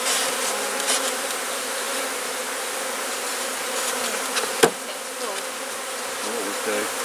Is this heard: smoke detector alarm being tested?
no